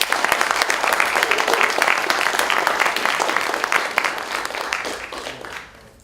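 Loud, sustained audience applause for a presenter named Frank at a conference event, dense clapping holding steady for several seconds before thinning and fading near the end.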